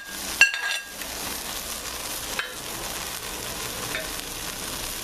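Bacon frying in a pan with lamb fat, a steady hiss and sizzle throughout with a brief clatter of a pan or utensil early on, close and fairly loud, no talk.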